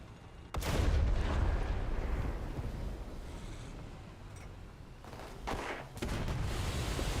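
Heavy booms from artillery in War Thunder, a sharp blast followed by a long rumbling roar, then further muffled impacts and a renewed low rumble in a tank battle.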